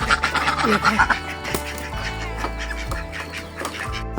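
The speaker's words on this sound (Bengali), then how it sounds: "এদিকে আমার হাঁসগুলো চলে আসছে খাবারের জন্য" Village ducks quacking as they gather for food, repeated nasal quacks close by mixed with talking voices and a low background hum.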